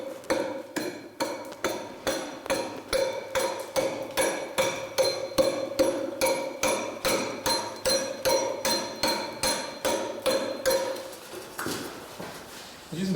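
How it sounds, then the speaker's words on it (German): A hammer strikes a pointed stone chisel, a Zweispitze, against a stone block in a rapid, regular series of sharp metallic clinks, about two per second, close and loud, pausing near the end. "Ich möchte mal die Arbeitsweise der Zweispitze erklären."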